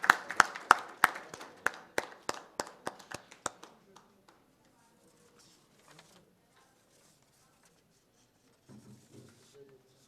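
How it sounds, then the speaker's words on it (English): A few people clap at an eminent engineers' award function, a brief burst of sharp, separate hand claps that thins out within about four seconds, then near silence with faint low murmuring at the end. "A big round of applause"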